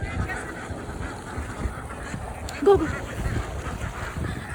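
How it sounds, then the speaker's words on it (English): Ducks or geese quacking and honking in a rural village in Passo, North Sulawesi, one louder call standing out midway over steady outdoor noise, with a voice shouting briefly. "Can you hear the ducks?"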